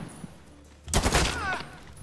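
A sudden loud burst of rapid gunfire in Medal of Honor Warfighter gameplay, breaking in after a quiet moment and lasting about a second before fading under lingering noise.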